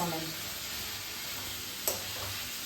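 Cut tomato pieces fry in a pan for tomato sambar with a soft, steady sizzle, a short stirring clink partway through, and faint talk at the start.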